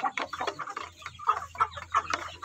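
Native chickens cluck repeatedly at close range in short, choppy bursts, with several birds overlapping at a steady moderate loudness over a low background hum.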